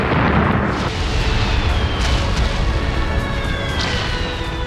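Continuous roaring blasts and rumbling booms fill the scene, loud and dense, with high whistling streaks passing overhead.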